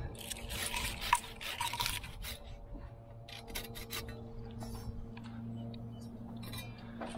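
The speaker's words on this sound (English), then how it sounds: "Take the saw and clip this big one back." A hand saw rasps through a pine hedge branch in quick rhythmic strokes, loudest at first, then settles into intermittent scraping over a low background hum.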